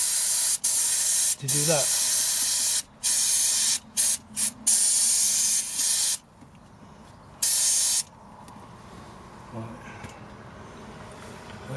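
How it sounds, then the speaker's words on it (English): Brake cleaner aerosol sprayed in several sharp, loud hissing bursts onto a Honda Civic MK8 windscreen washer pump, close up, with brief pauses between blasts and a voice speaking briefly. "So brake cleaner job on there."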